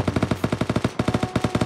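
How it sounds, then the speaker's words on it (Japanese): Gunfire in the Knives Out video game: rapid automatic bursts of shots in a steady rhythm, loud and close, with a brief pause before firing resumes. "お、なんか銃声聞こえる、そっち行きましょうか"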